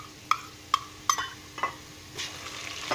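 Golden fried onions with ginger, garlic and green chilli paste sizzle softly in a pan while a spoon stirs, making several sharp metallic clinks at a steady rhythm.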